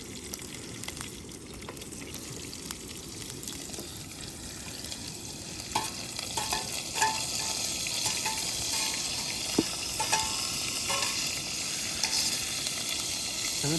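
Chopped onion fries in a hot pan with a steady, close sizzle and occasional stirring scrapes and clinks, continuous throughout with no talking.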